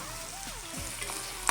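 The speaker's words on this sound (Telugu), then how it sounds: "గోల్డెన్ బ్రౌన్ కలర్ వచ్చే వరకు మనము బాగా ఫ్రై చేయాలి ఆనియన్స్ని." Onions frying in a pan for a dal tempering, a brief close sizzle with light stirring scrapes and a sharp clink at the very end.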